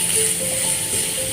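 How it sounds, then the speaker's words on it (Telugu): Onions sizzle in a pan for coriander fried rice, a loud, close, continuous hiss with faint scraping and stirring, and no talk. "ఇప్పుడు ఈ ఉల్లిపాయలు కూడా మగ్గిపోతున్నాయి కదా"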